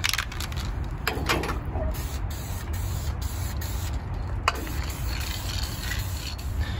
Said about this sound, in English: I'm just gonna spray the areas that were sanded down